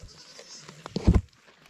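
A goat bleats during feeding at a Philippine farm, one short loud nearby bleat after softer ambient rustling, with a few faint background sounds around it.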